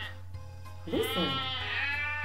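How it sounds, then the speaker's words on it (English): A sheep bleats once, a wavering, fairly close call that rises out of a quiet background with a steady low hum and lasts about a second and a half. "It is a sheep."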